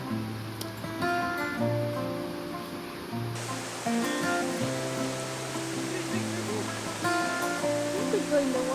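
Waterfall in remote Indonesia roaring steadily as a broad wash of rushing water, close and continuous, with people talking over it.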